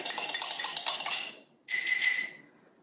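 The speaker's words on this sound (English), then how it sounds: "Give it a mix with a spoon" A metal spoon clinks and scrapes briskly against a dish while stirring drops into olive oil, a rapid run of bright clatter, a brief pause, then a second burst that fades out.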